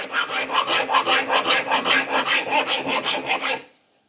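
A rasp chamfers the top edges of a wooden wedge in an axe handle, making a fast, rhythmic back-and-forth scraping of about twenty strokes, close and loud, then stopping abruptly.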